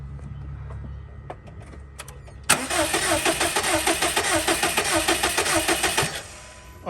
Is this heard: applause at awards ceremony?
no